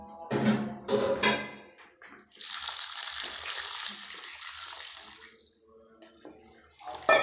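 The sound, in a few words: water being poured into chicken pot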